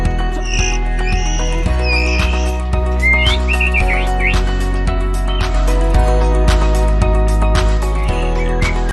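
A white-rumped shama sings close and loud, pouring out a run of varied whistled phrases and chirps with brief pauses between bursts.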